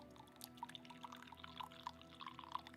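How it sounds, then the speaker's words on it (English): Coffee trickles slowly from a carafe into a cup, soft irregular drips and splashes, faint and close, over a quiet steady background hum. "Coffee pouring ASMR."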